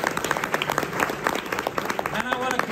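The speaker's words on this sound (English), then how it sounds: "Let's give Fade a big round of applause." Applause from an audience at a temple community celebration, dense clapping with a voice speaking over it throughout, close and steady for the whole stretch.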